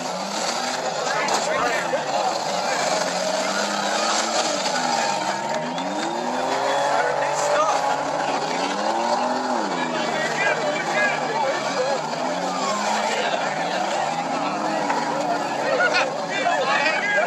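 A Buick Century derby car races in a demolition derby, its engine roaring steadily with squealing tires and skids over crowd noise and chatter throughout.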